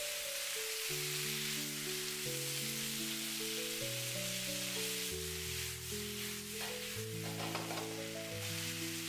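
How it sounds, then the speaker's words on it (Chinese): Fried taro tossed in a wok with tomatoes and mustard greens gives a steady, soft sizzle of stir-frying, heard faintly beneath background music with no speech. "接着把炸好的芋頭也倒下去，快速翻拌均勻，使所有的食材充分的融合。"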